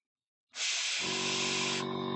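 An airbrush spraying paint switches on after a brief silence, a steady close hiss that holds evenly, with a faint low hum beneath it.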